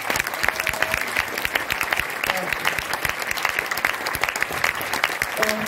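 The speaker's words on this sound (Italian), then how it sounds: "vorrei fare un applauso per unire a tutto il mondo questo teatro" Steady, dense theatre audience applause with sharp individual claps standing out, continuing evenly for several seconds at moderate loudness with faint voices beneath.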